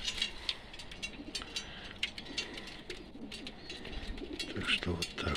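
Pigeons kept for sale in Nevinnomyssk coo softly in a loft, low repeated calls mixed with wing flutters and light shuffling, faint and close together.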